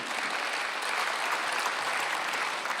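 Church congregation at a Sunday worship service breaks into dense, even applause, a steady wash of many hands clapping at moderate volume with no voices over it.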